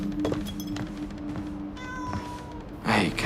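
Cats meow close by in a house, several short separate calls across a few seconds, with a louder, longer meow at the end.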